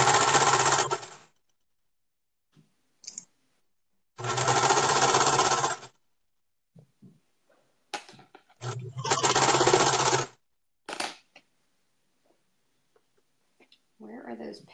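A sewing machine stitches a waistband in three loud, steady bursts of whirring a couple of seconds each, separated by quiet gaps with small handling clicks and rustles.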